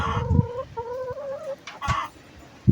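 A rooster gives several short, nasal calls and clucks close by, with scattered thumps and rustling between them.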